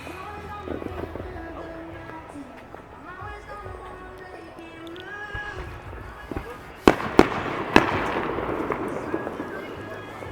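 Fourth of July fireworks in an open, foggy outdoor spot, heard as a steady distant rumble of bursts, then three sharper, louder bangs near the end, while people chat quietly throughout.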